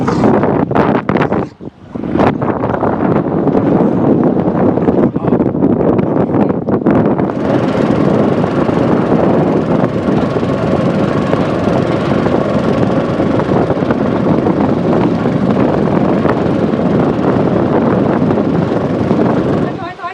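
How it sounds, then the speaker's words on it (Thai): Strong wind buffets the microphone in a loud, continuous roar, with a brief lull near the start and a voice briefly audible at times. "ลมนะ"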